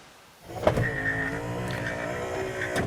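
Electric power windows motor on a late-1950s Cadillac de Ville, a steady whirring hum that starts after a brief quiet moment, runs continuously up close and ends with a soft thunk.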